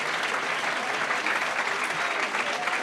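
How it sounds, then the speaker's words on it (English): A dense, steady wash of audience applause at a live comedy club show, many hands clapping at once, loud and continuous throughout. "Why are we applauding her for being 33?"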